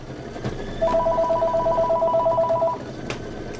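A telephone rings for an incoming call, one sustained electronic double-tone ring lasting about two seconds over quiet room noise.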